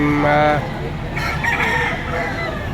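A rooster crows loudly and close by at a poultry market in Batangas, Philippines, one long harmonic call, followed by softer clucking and background chatter.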